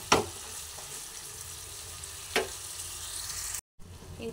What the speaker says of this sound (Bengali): এরপরে মাংস ভালোভাবে নাড়াচাড়া করতে করতে দেখুন মাংসের থেকে তেল ছেড়ে আসছে